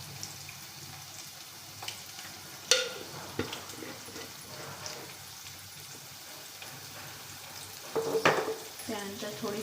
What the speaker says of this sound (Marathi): कांदा होत आहे, तर यामध्ये आपल्याला कांदा लवकर शिजावा यासाठी आपल्याला मीठ पण घालून घ्यायचं आहे